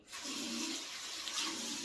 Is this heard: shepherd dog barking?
no